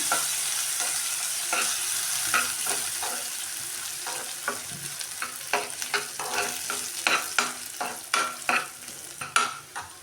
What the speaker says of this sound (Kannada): ಇದೇ ತುಪ್ಪದಲ್ಲಿ ನಾನು ಹಾಕಿಬಿಟ್ಟು ಇದನ್ನ ಚೆನ್ನಾಗಿ ಫ್ರೈ ಮಾಡ್ಕೊಳ್ಳೋಣ